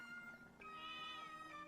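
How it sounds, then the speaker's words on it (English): A cartoon cat in the video game Echoes of Wisdom makes short, tonal meowing sounds while eating, faint and close, with a brief rising chirp in the middle and no talk over it. "I guess that's the sound of the cat eating."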